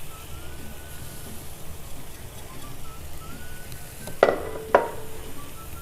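Spices are stirred into fish curry masala frying in a pan, with a soft continuous sizzle and two sharp spoon scrapes or knocks near the end.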